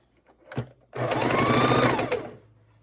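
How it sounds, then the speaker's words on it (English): A sewing machine runs in one steady burst of about a second and a half, stitching precut quilt pieces together, with a brief click beforehand and quiet afterward. "And I'm going to start sewing all of these on."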